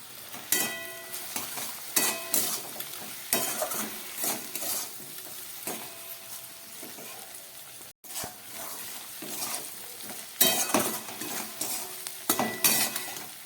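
Okra being stir-fried with salt and turmeric in a pan, giving a steady soft sizzle broken by repeated loud scraping and clattering strokes of a spatula against the metal, close up with no voices.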